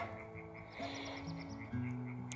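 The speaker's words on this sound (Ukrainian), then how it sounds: "Чуєте жаби? Жаби як відзиваються." Several frogs croak steadily in low, buzzing tones, overlapping calls close by with faint higher chirps in the background.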